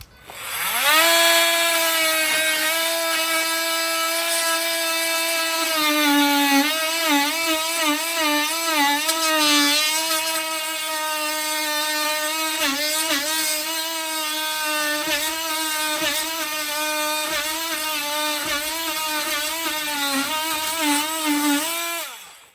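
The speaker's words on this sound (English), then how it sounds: "So put the circular saw through there, and then I've just finished it off with the multi-tool" A circular saw and then a multi-tool cut through wood while building an outdoor wood-fired pizza oven countertop. It is a loud, sustained, high-pitched whine whose pitch dips and recovers repeatedly under load, with no talk.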